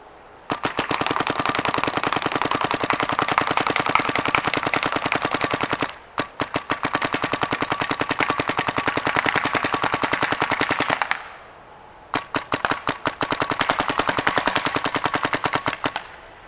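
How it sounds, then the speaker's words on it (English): A Dye DSR paintball marker fires Empire Ultra paint in three long rapid strings of sharp, evenly spaced pops, heard up close. Each string is separated by a short pause, and the last run is broken into a few separate bursts. "shooting all the way through the hopper. No problems, no issues, no breaks whatsoever."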